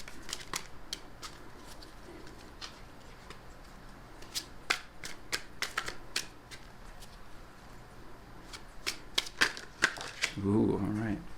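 Tarot cards are shuffled up close in repeated crisp bursts of riffling snaps and clicks, with short pauses between them and a low voice near the end.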